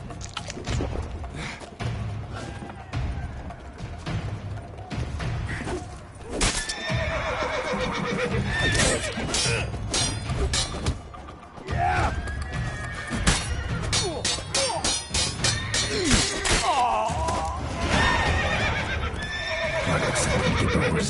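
Horses whinny loudly and repeatedly over continuous clip-clopping hooves, a busy, close, full-bodied commotion with overlapping neighs throughout.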